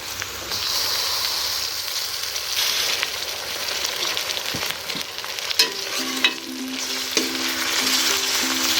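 Chopped tomatoes and green chillies tipped into browned onions frying for chicken keema, giving a steady loud sizzle with scraping stirs and a few clanks of the spoon against the pan.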